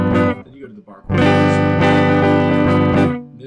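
Electric guitar strums barre chords in a home practice session, a couple of full sustained chords ringing loud and rich with harmonics, separated by a short pause and decaying at the end.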